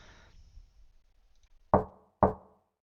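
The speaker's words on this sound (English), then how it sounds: "I thought I just heard a knock just now." Two sharp knocks on a door in a visual novel game, evenly spaced about half a second apart, crisp and close after a soft, near-silent lead-in.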